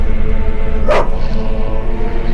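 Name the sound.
dogs barking in video game The Witcher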